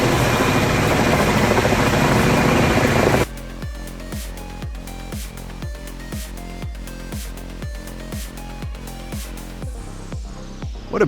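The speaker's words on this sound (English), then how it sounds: "After felling, helicopters perform the intense extraction, airlifting the logs to the staging area." A logging helicopter airlifting logs: a loud dense rotor and turbine roar gives way abruptly to a steady rhythmic blade chop, regular thumps repeating close by for several seconds.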